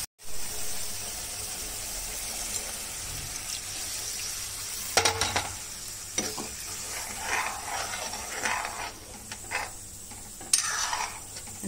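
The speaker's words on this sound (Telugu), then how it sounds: "కొంచెం నీళ్ళు వేస్తాను" Water poured into a pan of frying curry for a tamarind-gravy chilli masala dish, with a few sharp splashing bursts and hissing over a steady low sizzle, close and fairly loud, no talk.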